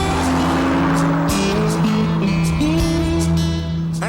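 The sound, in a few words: Chrysler Crossfire car accelerating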